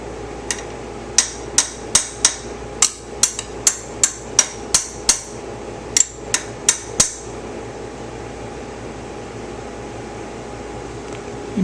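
A hammer taps a shim pin out of a trike's rear wheel axle with about fifteen sharp metallic knocks in quick, slightly uneven succession, then quiet with a faint mechanical hum.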